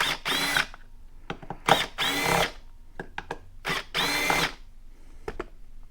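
A power tool drives out 8mm bolts on a 2022 Honda Grom during a crankshaft support bearing mod: several loud, close whirring bursts, each a second or so long, separated by short pauses with small clicks and clatter.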